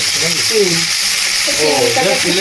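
Prawns fry in a pan with a continuous, loud sizzle filling the clip, while a voice talks faintly underneath.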